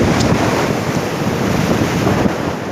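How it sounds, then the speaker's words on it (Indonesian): Ocean waves roll and crash on a beach in strong wind, a loud continuous surf roar with buffeting wind noise on the microphone. "hempasan ombak yang bergulungnya itu"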